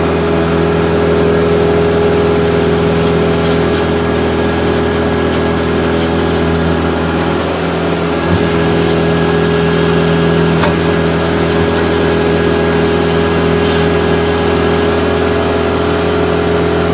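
A 2011 Kubota B3200HSD compact tractor with backhoe runs its engine in a steady, close, continuous drone at an even level, with no talk over it.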